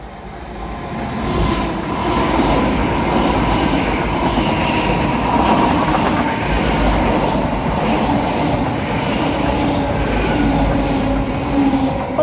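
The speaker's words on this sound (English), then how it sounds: "Hello train." A train runs along the Teignmouth seawall, a loud, sustained rumble of wheels and carriages rolling past close by, with faint squealing over the steady roar and no talk.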